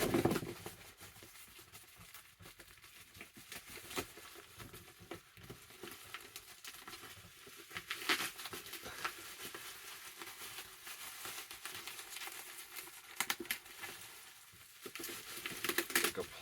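Crinkly plastic packaging around a Mitchell & Ness Chicago Bulls or Steelers hat is torn and handled, giving irregular close rustling and crackling bursts that run steadily for about sixteen seconds with no talk.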